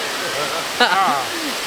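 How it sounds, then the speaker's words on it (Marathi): The Paleshwar waterfall, flowing on both sides, makes a steady broadband rush under a nearby person talking. "पाठीमागं बघू शकता पालेश्वर धबधबा आहे दोन्ही साईडचे धबधबे चालू आहेत"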